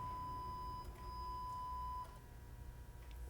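Motor-driven table of a 2016 Martin T45 planer powering open to a six-inch setting: a faint steady electric whine with a thin high tone that cuts off after two seconds, leaving a low hum.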